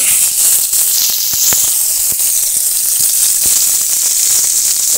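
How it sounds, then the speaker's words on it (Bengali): Shankhachur fish fry loudly in hot oil for a curry, a steady close sizzle and hiss with scattered crackling pops throughout. "মাছগুলো ভালো করে লাল করে ভেজে নিয়েছি"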